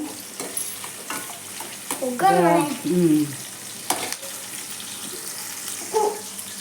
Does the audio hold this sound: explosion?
no